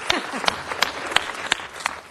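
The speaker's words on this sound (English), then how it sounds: "Ladies and gentlemen, let's give Donna a round of applause." A handful of scattered, sharp hand claps ring out at a city council meeting, spaced irregularly over a couple of seconds with faint room murmur beneath.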